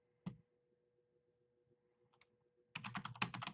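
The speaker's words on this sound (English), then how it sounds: "I expect you to be able to type" Keys on a computer keyboard typed at a command line in quick succession: one isolated click near the start, a few faint taps, then a dense, louder burst of rapid keystrokes toward the end, with no talking.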